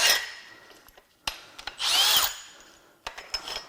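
Power tool, likely an impact gun or drill, unbolting parts on a used BMW M54 engine, giving short whirring bursts and clicks with one longer spin-up in the middle, close by, with no talk.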